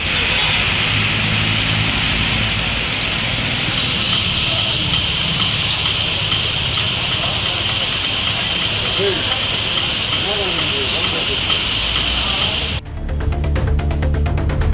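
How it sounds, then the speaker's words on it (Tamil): Heavy rain pouring down around Vaniyambadi in Tirupattur district, a loud dense continuous hiss of downpour filling the scene, steady throughout with a brief shift near the end. "திருப்பத்தூர் மாவட்டம் வாணியம்பாடி சுற்றுவட்டார பகுதிகளில் கனமழை பெய்தது."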